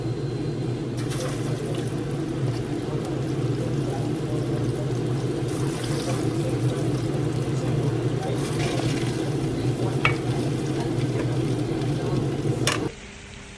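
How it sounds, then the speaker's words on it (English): Plantain fries in hot oil in a steady, even sizzle with a low hum beneath it, broken by a few sharp clatters before cutting off abruptly near the end. "The oil is ready. We're just going to put our plantain in here and then fry it up."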